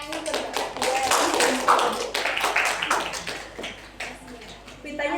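Scattered clapping from a classroom group during a microteaching session, a steady patter of hand claps lasting several seconds, fairly close, with some voices mixed in.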